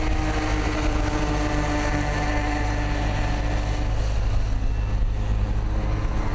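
Several 50cc Vekoma-engined Bambino go-karts, driven by children aged 5 to 9, race around a Swakopmund track in Namibia during qualifying, making a steady, dense engine drone that stays loud throughout.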